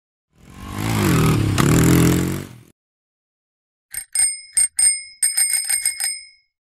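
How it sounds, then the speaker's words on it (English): A bicycle bell rings in a quick series of bright, sharp dings near the end, following a separate rumbling engine-like sound earlier, with silence between. "Bicycle."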